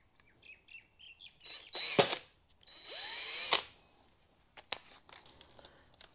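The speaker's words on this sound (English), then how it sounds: "just drill a little hole in the top as a breather so air can get out" Short bursts of a small power drill whirring as it drills a small hole in plastic, a couple of brief high-pitched runs separated by quiet pauses, close by with no talking.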